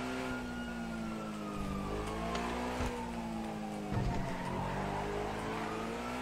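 A car driving in GTA V, a steady engine drone with gently shifting pitch and some rumbling, close and continuous, with a siren-like tone running underneath.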